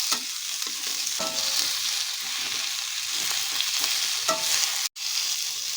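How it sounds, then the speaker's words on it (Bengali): Tomatoes and onions fry in ghee with a soft, steady sizzle, broken by repeated scraping stirs of a spoon against the pan and one brief cut-out near the end. "এবার সবগুলোকে আমরা এইভাবে ভেজে নেব ঘির মধ্যে।"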